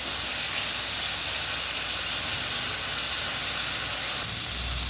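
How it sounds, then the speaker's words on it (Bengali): Small puti fish fry in plenty of hot oil in a pan, a loud, steady hissing sizzle that fills the whole stretch without pause. "একটু ভাজছি ভালো করে, কাঁচা গন্ধ করবে তো"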